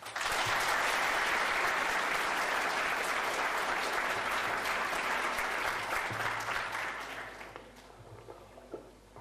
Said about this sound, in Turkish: öğretmenlerinizi benim için bir alkışlayın Allah aşkına